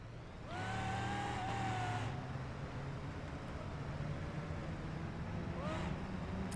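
An off-road Baja-style truck in BeamNG drives with a steady, loud engine drone, revving up and easing off with rising and falling pitch throughout.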